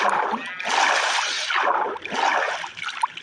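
Water poured from a bucket in the Minecraft video game, a loud, steady splashing rush that swells and dips in a few waves over about three seconds.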